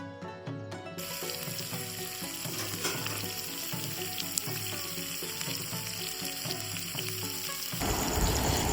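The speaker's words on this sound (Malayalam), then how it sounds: "ബട്ടർ മെൽറ്റായതിന് ശേഷം നേരത്തെ തയ്യാറാക്കി വെച്ച ചിക്കൻ നമ്മൾ ഇടേണ്ടതാണ്" Chicken pieces fry in melted butter with a steady, close sizzle and crackle, accompanied by faint background music throughout and no one speaking.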